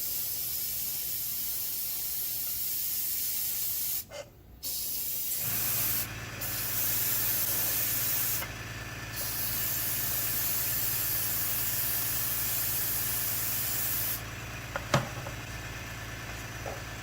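Spray paint hissing onto a model diorama base for a Takom Panzer III tank, long steady bursts with brief pauses between them, close and fairly loud.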